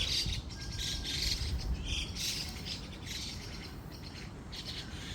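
Birds chirping and squawking in a park on a Japanese morning, a steady chorus of calls at moderate distance over a low background hum, with faint insect-like trills.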